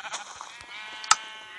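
Blocky Minecraft sheep bleat in the video game, a couple of short, bright bleats with a sharper louder one near the end, faint and close against quiet background.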